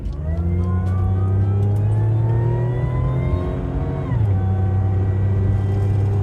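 Monte Carlo car with about 350 brake horsepower, its engine droning loud and close in a steady rev that climbs, dips sharply around the fourth second, then settles back into a rising hum, with no talk.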